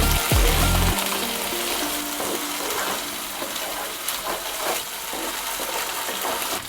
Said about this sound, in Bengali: এবার যে পেস্টটা তৈরি করে রেখেছিলাম এবার তেলের মধ্যে দিয়ে দিই।